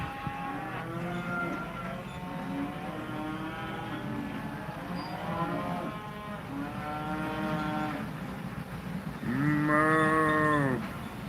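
A herd of cows moos repeatedly, long drawn-out calls overlapping one another, the loudest bellow coming near the end.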